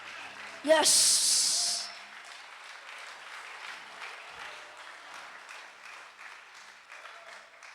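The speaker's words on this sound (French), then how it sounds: "Acclamez Jésus, ça, hein?" A church congregation bursts into loud applause and cheering that swells for about a second and then fades, followed by a speaker's voice talking over a murmuring crowd.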